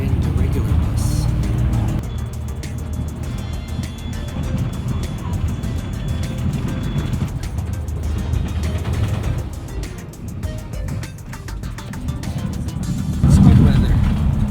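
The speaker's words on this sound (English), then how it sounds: "We're not in the tour bus. We're in the regular bus." Interior of a regular public city bus in Korea while it drives, with a steady low engine and road rumble plus rattling, and occasional voices over it.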